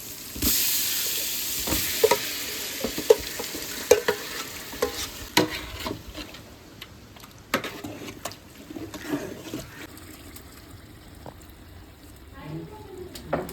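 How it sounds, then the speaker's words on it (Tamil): Marinated chicken goes into a pan with salted water and sizzles loudly at first, then settles. Scrapes and clinks from stirring come and go throughout, ending in gentle bubbling. "ஊற வச்சுருந்த கோழியை போட போகிறோம்"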